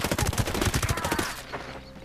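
Rapid bursts of gunfire in the multiplayer shooter Ghost Recon Breakpoint rattle out in a fast, dense string of loud shots, then stop abruptly and leave a fading echo.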